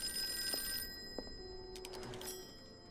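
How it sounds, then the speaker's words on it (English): An old-fashioned telephone bell rings in the video game Call of Cthulhu, with a few bright, metallic rings at moderate volume and no voices. "Phone's ringing."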